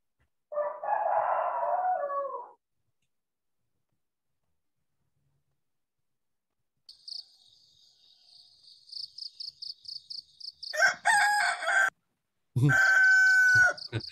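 Rooster crowing at dawn in Pulau Suwangi village, rising in repeated bursts near the end of the stretch after a long hush, with steady cricket chirping trilling beneath it.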